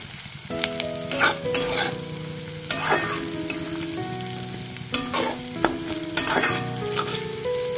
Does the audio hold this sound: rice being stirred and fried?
yes